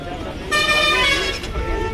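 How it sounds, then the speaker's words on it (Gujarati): Horn of a new Bajaj Pulsar NS 200 motorcycle sounding one steady nasal beep of about a second, close and loud, with a voice talking around it. "આ હોર્ન"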